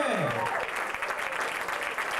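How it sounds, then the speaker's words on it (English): An audience at a jazz education conference in Anaheim applauds a school jazz combo with steady, dense clapping that stays fairly loud throughout, mixed with some crowd noise. "Come on, let's give them a round of applause."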